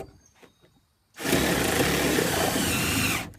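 A power drill drives screws into the wooden hinge of a goat hay feeder, a loud steady whir running for about two seconds after some faint tapping and handling sounds.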